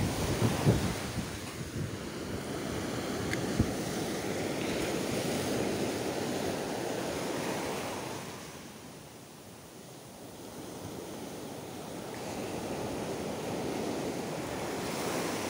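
Ocean surf rolls in steadily with a broad, rushing wash, briefly easing before swelling again, with wind buffeting the microphone throughout.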